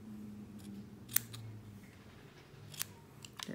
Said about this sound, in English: Trim it just a hair.